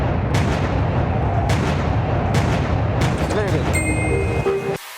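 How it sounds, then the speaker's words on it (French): Street protest explosions in Paris, loud booms and bangs recurring amid a dense crowd roar, with whistles and shouting mixed in; one blast follows another in irregular succession. "rythmé au bruit des explosions"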